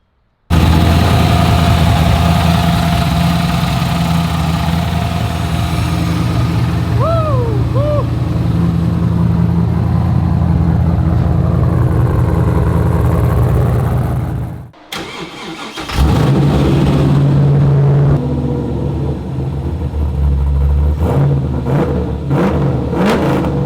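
Nissan 240SX engine idling high after starting, a loud, steady, throaty drone close by that drops out briefly midway and then returns at the same raised idle.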